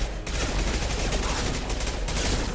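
Rapid SMG gunfire from the video game Mass Effect Legendary Edition, a dense, loud burst of automatic shots after a brief pause, continuing for a couple of seconds.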